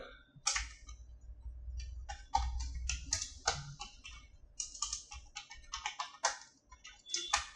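Fingers type C code on a computer keyboard, a quick, irregular run of crisp key clicks with short pauses between bursts, close and fairly quiet, with no voices.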